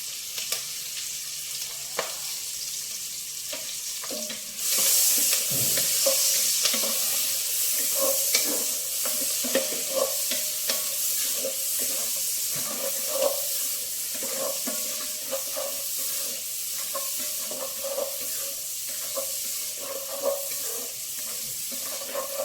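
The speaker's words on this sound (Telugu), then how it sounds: "ఉల్లిపాయ కొంచెం వేగాలండి. వేగింది ఉల్లిపాయ." Onions and green chillies frying in a pan with curry leaves, a constant sizzle that turns louder partway through, punctuated by regular stirring clinks and scrapes.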